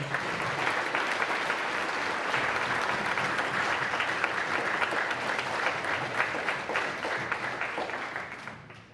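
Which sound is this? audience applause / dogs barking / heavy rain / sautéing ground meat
audience applause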